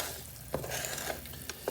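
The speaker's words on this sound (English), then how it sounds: "So I'm just going to keep stirring this because, like I said, we don't want any of this to burn." Agave syrup candy for lemon drops being stirred in a pot as it cooks, a soft, even bubbling hiss with a few light scrapes of the spoon, quiet and close.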